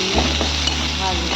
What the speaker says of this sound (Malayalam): നമുക്ക് വെന്ത് വെച്ചിരിക്കുന്ന കൂന്തൽ ചേർത്ത് കൊടുക്കാം.